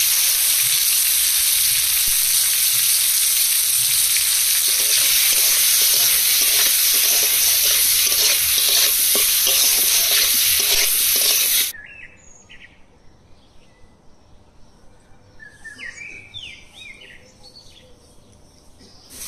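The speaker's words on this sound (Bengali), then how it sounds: "সব একসাথে ভেজে নেব।" Onions, tomatoes and garlic fry in hot oil for a spicy prawn curry, giving a loud, steady sizzle that stops abruptly, after which faint bird chirps carry on over quiet background.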